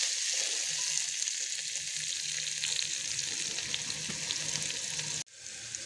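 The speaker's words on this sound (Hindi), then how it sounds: "ये हमारे प्याज अच्छे से फ्राई हो चुकी है" Chopped onion and garlic frying in a pan, a steady loud sizzle that runs unbroken before dropping briefly and then resuming slightly quieter.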